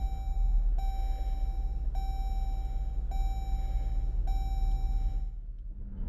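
A steady tonal chime repeats about once a second over a low engine hum inside a car, stopping near the end.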